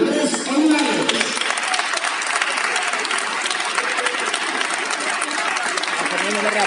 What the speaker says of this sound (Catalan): Un fort aplaudiment per a Fernando Andrés Olivares